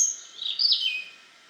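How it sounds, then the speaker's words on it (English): A bird at Dartmoor Zoo gives a single clear, close chirp that rises and falls over about a second and a half, alone with no talking. "Very pretty bird."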